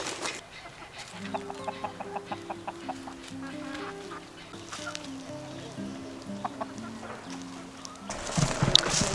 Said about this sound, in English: Chickies.